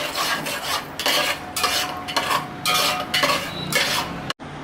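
Semolina (rava) stirred and roasted in a pan with a spoon, giving steady close scraping and clinking strokes in repeated bursts, with faint sizzle beneath and no talk.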